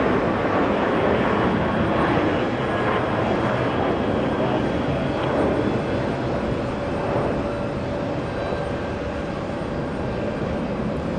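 JetBlue airliner departing runway 4 left at JFK bound for Houston, a loud sustained jet roar with a whining tone that eases slightly toward the end, a voice faintly present beneath it.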